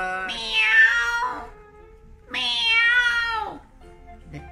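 A human voice imitates a cat for a finger puppet story, giving two long, drawn-out meows separated by a short pause, each one loud, close and clearly tonal.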